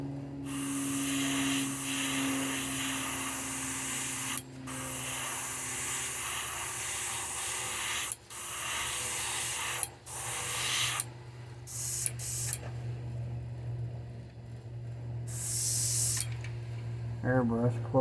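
An airbrush sprays paint onto a crankbait lure in a crackle bass pattern, a steady close hiss that stops and starts in several bursts with brief gaps, ending with a short sputter.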